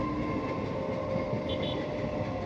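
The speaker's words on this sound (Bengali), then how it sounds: "একটা ট্রেন ওদিকে যাচ্ছে" A train passes near Bolpur in West Bengal, a steady rumbling roll that holds at a moderate distance for the whole stretch, with no voices over it.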